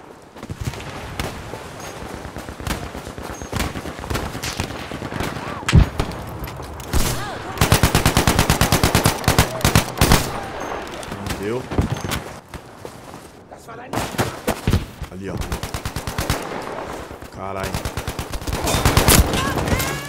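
Rapid bursts of automatic gunfire and scattered shots crackle repeatedly in a Battlefield V team deathmatch, with loud sustained volleys and people talking in between.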